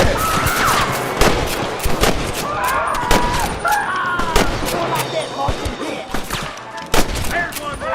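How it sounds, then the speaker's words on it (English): Rapid bursts of gunfire from a Red Dead Redemption shootout against rustler guards, with sharp repeated shots at close and middle distance over a busy game soundscape, along with shouting voices. "Gun them down!"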